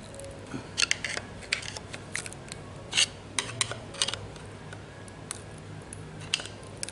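A screwdriver working small parts loose from a Toyota 5EFE engine, giving sharp metallic clicks and ticks scattered irregularly over a low background hiss, near and fairly quiet.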